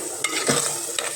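Fish curry with turmeric stirred in a pan, a few scraping strokes over a steady low sizzle, close and moderately loud, with no voices.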